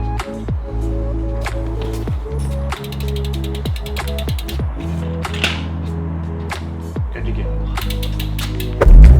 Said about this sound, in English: Let's get this bike off the car and head inside.